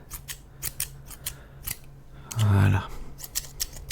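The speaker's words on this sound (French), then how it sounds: "on va remettre quelques petits coups de ciseaux" Quick, crisp snips of barber's scissors trimming hair, a rapid run of close metallic clicks spread through the clip, with a brief louder rustle midway and a soft word spoken.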